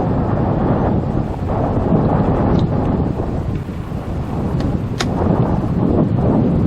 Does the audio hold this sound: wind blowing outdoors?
yes